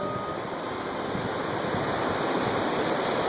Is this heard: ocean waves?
yes